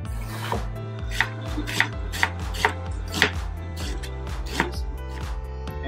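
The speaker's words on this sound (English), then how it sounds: "Okay, so I'll get cutting." A knife chops thin slices of lamb and chicken for kebab on a board, a run of close, crisp, fairly regular cuts with a low rumble beneath, no voices.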